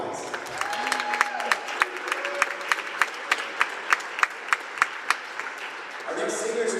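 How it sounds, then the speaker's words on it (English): A gym audience claps warmly for a senior player on men's college basketball senior night, the applause steady with sharp individual claps standing out, while an announcer's voice lingers briefly over the opening and returns near the end. "Please join us in giving Dougie a huge round of applause"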